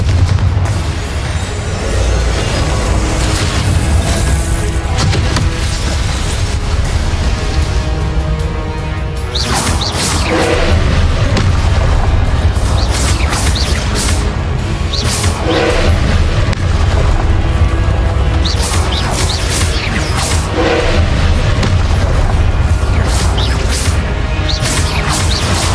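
Explosive Confringo spell blasts in the video game Hogwarts Legacy: repeated heavy booms and crashes under a loud, dense battle soundtrack that never lets up.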